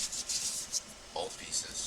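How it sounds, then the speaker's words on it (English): Brief rubbing and scrubbing strokes as grime and dirt are wiped off Associated RC car parts, soft irregular scuffs close to the mic with short gaps between them. "to clean off the excess dirt and grime, like what's on this"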